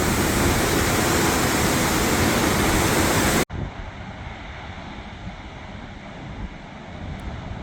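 Water pours over a dam spillway in Ohio in a loud, close, full roar that cuts off abruptly partway through, giving way to a much quieter, more distant rushing.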